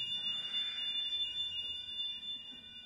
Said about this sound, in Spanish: La alarma.